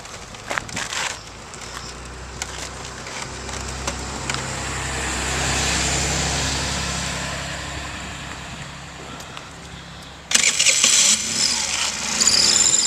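A used moped engine fires and runs outdoors, a steady rough mechanical drone that swells and eases over several seconds before a sudden louder, brighter burst of revving noise near the end, with no talking.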